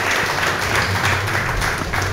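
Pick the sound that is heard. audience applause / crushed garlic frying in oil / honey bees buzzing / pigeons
audience applause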